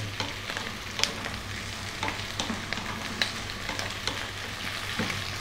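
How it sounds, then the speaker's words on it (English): Steady sizzling of vegetables stir-frying in a wok over high heat, with repeated scraping and clattering as they are stirred, no voices. "again stir frying pretty much all the time here"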